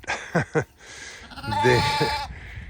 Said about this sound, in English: I started with a bunch of sheep that were not exactly Greg Judy quality